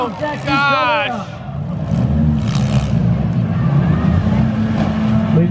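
Cars in a demolition derby at the Bangor State Fair in Maine grind and roar close by, a continuous loud engine rumble with a commentator's excited voice layered over it.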